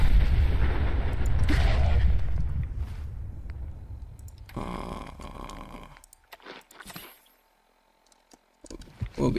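A machine gun turret in Fallout 4 fires in a loud, heavy roar at first, then fades into scattered, sparser booms and bursts with brief quiet gaps between them.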